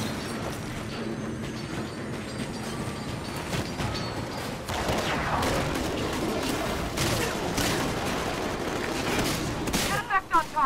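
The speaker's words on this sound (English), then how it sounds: "Railgun pre-fire sequence initialized." Heavy gunfire and battle noise fill a Titanfall combat scene, with dense crackling bursts building in intensity toward a railgun discharge, ending in a few sharp, stuttering blasts; radio voices chatter faintly underneath.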